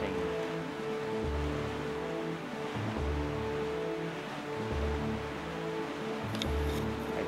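Ocean surf in the video game The Legend of Zelda: The Wind Waker, a steady, full wash of waves with wind noise, rolling continuously under sustained music tones.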